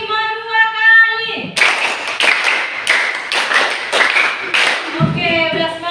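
A classroom group performs a rhythmic clapping pattern twice over, crisp clustered hand claps ringing out close and loud, with spoken voices before and after the clapping bursts.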